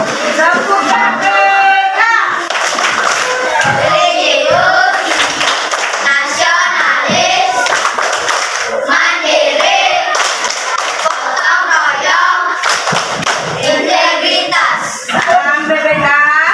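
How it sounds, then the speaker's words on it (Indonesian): Schoolchildren standing in a primary school classroom clap their hands together in a loud, busy burst, with scattered kid voices and thumps mixed in throughout. "Tepuk tangan."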